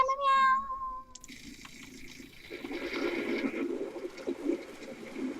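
A cat meows in the WolfQuest video game, giving a single short, clear call at the start, followed by a quieter stretch and then a continuous rushing, watery noise in the game background.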